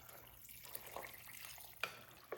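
Water poured from a container over dried pinto beans in a crock pot, a soft continuous trickle and splash with a couple of sharper drips near the end, close and fairly quiet.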